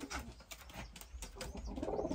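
A Barcelona extreme long-distance racing pigeon coos softly at close range, low murmuring cooing over faint rustling and flapping, with no one talking.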